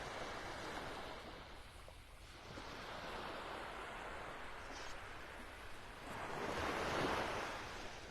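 Ocean surf rolls onto Vanderbilt Beach in North Naples, Florida, a continuous wash of breaking waves with wind buffeting the microphone, swelling louder toward the end.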